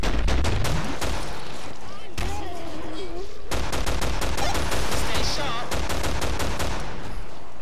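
Rapid gunfire from Killing Floor as players shoot monsters, with bursts of closely spaced shots and brief gaps, loud and near, under occasional talk.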